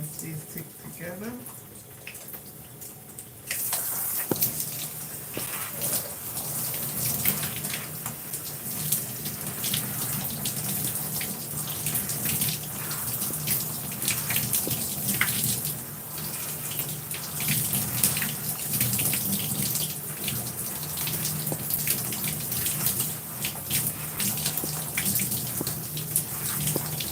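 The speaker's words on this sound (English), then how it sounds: "I'll rinse these two together." Water from a tap runs steadily while hair is rinsed, starting abruptly after a quiet moment and then pouring and splashing continuously at close range, with a voice faintly audible beneath the flow.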